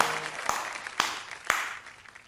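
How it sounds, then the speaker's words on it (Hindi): Applause honouring the poets at an online all-India Hindi poetry gathering: dense, steady clapping noise, with three sharp, louder claps standing out at even half-second intervals. "मैं चाहता हूँ एक बार उनके सम्मान में आपकी जोरदार तालियां हो।"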